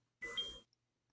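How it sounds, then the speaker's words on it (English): A brief electronic two-tone beep from a hearing aid, signalling maximum volume is reached; short and fairly quiet, standing alone in silence. "you'll hear a 2-tone beep when the maximum volume level is reached"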